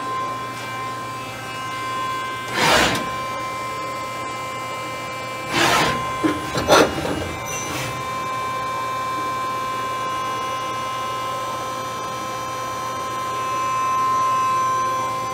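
A Fanuc Robodrill Alpha T14iA CNC machine with a pallet changer running a demonstration: a steady electrical hum and whine with several short bursts of spindle and tool motion, loudest near the start and middle, no talking.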